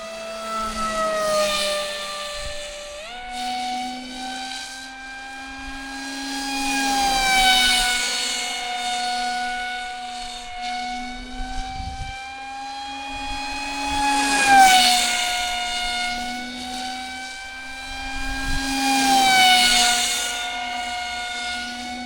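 Electric motor of an RC F-22 model jet held at full throttle, a loud sustained whine with strong harmonics that dips and swells in pitch over about twenty seconds, close by with no voices.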